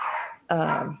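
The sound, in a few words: dogs barking in the background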